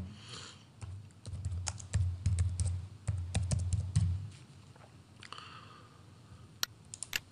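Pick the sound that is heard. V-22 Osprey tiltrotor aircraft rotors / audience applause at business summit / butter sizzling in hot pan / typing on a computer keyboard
typing on a computer keyboard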